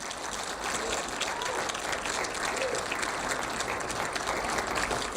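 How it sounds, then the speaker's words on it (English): A luncheon crowd applauds for signing-day recruits, with sustained, even clapping from a roomful of people, steady and fairly soft throughout. "But let's give them a round of applause."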